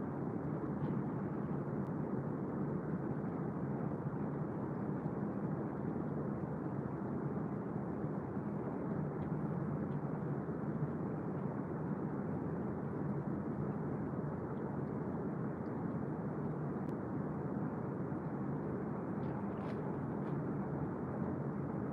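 Steady broadband ocean roar from the Oregon coast, a continuous distant surf rumble heard through a phone, constant and unbroken with no talking.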